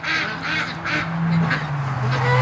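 Ducks returning home from a lake quack in a string of loud, close bursts, several calls overlapping at an uneven rhythm over a faint background hum.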